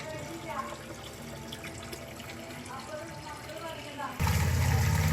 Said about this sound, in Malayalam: ഞാൻ വെള്ളം ചേഞ്ച് ചെയ്തുകൊണ്ടിരിക്കുകയാണ്